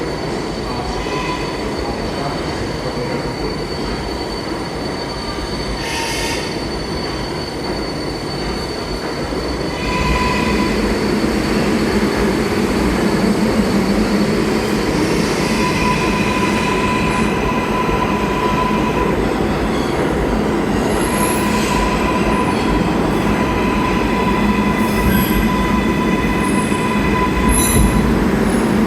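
An 11-car subway train of R188 cars rolls slowly through a station at night, loud steady rumble with sustained high wheel squeal and occasional clicks, growing louder partway through.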